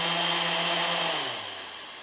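Small electric motors on a Bugs 3 drone whir in a loud, high-pitched buzz that drops in pitch and fades as the rotors wind down.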